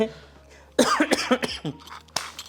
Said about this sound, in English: That cough is coming and hot.